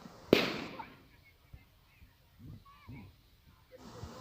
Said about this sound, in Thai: เสียงประทัดกระด้างดังค่ะ